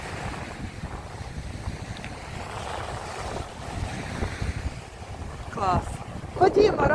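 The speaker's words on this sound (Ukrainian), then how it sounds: "вітер сьогодні, вітер сильний" Strong sea wind on the Odesa shore buffets the microphone in a steady roar, with waves washing nearby and a few bursts of rougher gusting near the end.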